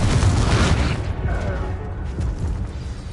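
A Confringo fire spell bursts in a duel in the Hogwarts Legacy game, a loud booming blast with low rumble that holds for a few seconds and slowly fades.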